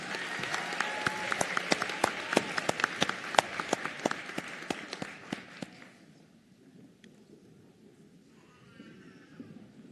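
Applause at a nursing graduation ceremony, many hands clapping steadily for about six seconds before fading out into quiet room tone.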